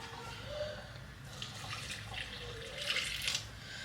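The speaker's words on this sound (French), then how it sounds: "Maintenant, je vais venir mettre de l'eau." Hot water runs from a tap or is poured into a bowl for homemade bread dough, a soft, uneven splashing trickle that swells near the end.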